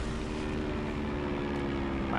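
An aircraft drones through a plane shooting section of an Indiana Jones video game, a steady, moderately quiet engine hum with a low throbbing tone holding evenly throughout.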